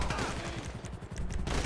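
Police gunfire in the video game GTA 5, a dense rapid volley of shots rattling continuously over a loud, busy game soundscape.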